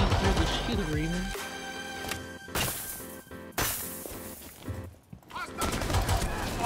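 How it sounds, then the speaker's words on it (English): Gunfire in Rainbow Six Siege, a handful of sharp shots and bursts breaking through a busy mix of game noise, with a person talking excitedly over the action. "Oh my god, they're still shooting at me."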